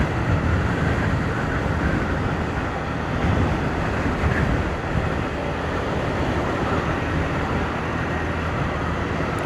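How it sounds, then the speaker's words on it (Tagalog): Strong wind roars steadily across an open outdoor space, a dense broadband rush buffeting the microphone with no pauses. "Medyo mahangin dito"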